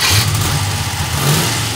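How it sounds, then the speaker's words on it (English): Ex-NASCAR Chevy small block racing engine with 18-degree heads, 13:1 compression, single plane intake and 850 CFM carburetor, rumbling loudly with a brief rev swell near the start and another toward the end. "Our test engine is a Chevy small block built for racing."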